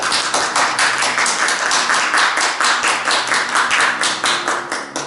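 A church congregation applauds in a loud, dense, continuous wave of clapping that pulses with a steady rhythm, close and filling the room, with no speech over it.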